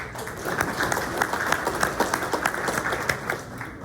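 A ceremony audience honoring police and fire personnel claps together for a company's introduction, a steady dense patter of many hands heard alone and fairly near.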